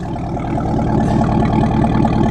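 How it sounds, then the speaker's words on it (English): Supercharged V8 of a Chevrolet Camaro ZL1 1LE idling with a deep, steady rumble, loud and close, a continuous low throb without pauses. "Listen to that V8 rumble."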